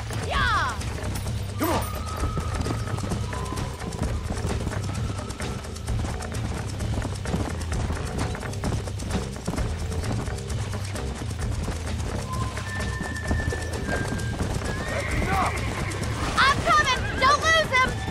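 A horse gallops in the Red Dead Redemption video game, its rhythmic hoofbeats clip-clopping throughout over game sounds, with voices and short tonal effects coming in at times.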